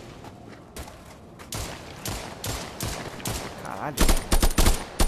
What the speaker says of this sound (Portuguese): Quando eu atiro na cabeça, faz um barulho.